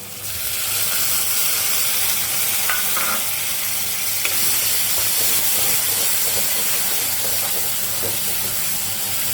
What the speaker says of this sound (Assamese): এতিয়া মই এই পিচি ৰখা ভেদাইলতা পাতখিনি মই ইয়াতে 2 মিনিটমান এনেই অলপ ভাজি লওঁ